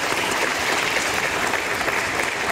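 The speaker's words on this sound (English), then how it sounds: "carry out this vote of thanks with a very round and loud applause" Dense, loud applause from a seated audience at a lecture meeting on crowdfunding and SME listings, a steady wash of many clapping hands offering a vote of thanks.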